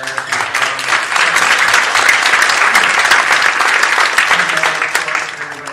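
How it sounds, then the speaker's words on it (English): Sustained audience applause at a tech conference in a Microsoft building, thanking the event organizers; dense, steady clapping from a sizeable crowd, loud and close, running the full length without pause. "if we could have a round of applause for Aaron"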